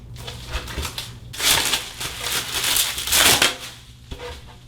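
Plastic packaging is peeled and crinkled off a Creality K1 3D printer cover, making close, loud bursts of rustling and crackling in uneven waves, with no voices.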